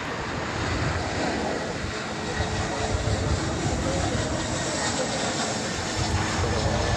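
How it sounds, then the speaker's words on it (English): Airbus A321 airliner on American Airlines' arrival from Kansas City at DFW Airport, a steady broadband jet roar filling the whole stretch at constant loudness, heard alone without talk. "Got American Flight 1098 coming in from Kansas City. It's an Airbus A321."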